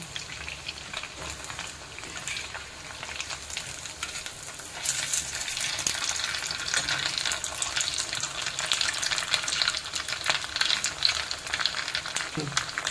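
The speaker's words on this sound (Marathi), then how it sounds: "दुसरी साईड पण आपण चांगले ब्राऊन होऊन देऊया" Millet medu vada for fasting deep-fry in oil, a dense, continuous crackling sizzle heard close and steady, swelling a little louder partway through, with no voices.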